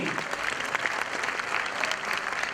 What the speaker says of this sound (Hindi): इस खूबसूरत जोड़ी के लिए आप सभी को तालियां बजानी होंगी